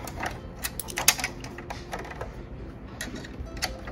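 Screw being driven by hand into a Brother PR680W embroidery machine during unpacking and setup, giving a quiet series of irregular small clicks and ticks close by, with no talking.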